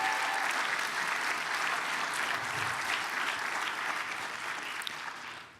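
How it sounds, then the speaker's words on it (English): An audience at a civic forum on Portland's system of government applauds a board chair and members, a dense, sustained wash of clapping from many hands that fills the room and slowly fades toward the end. "Let's give them a round of applause."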